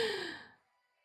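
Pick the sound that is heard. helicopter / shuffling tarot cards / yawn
yawn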